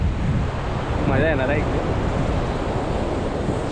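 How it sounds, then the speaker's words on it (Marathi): Sea waves wash steadily at a clean beach in Ganpatipule, a loud continuous surf roar mixed with wind, while someone talks briefly over it. "हे बघा इथे पाठीमागे माझा समुद्र आहे आणि मी आता समुद्रामध्ये जातो आहे हळूहळू"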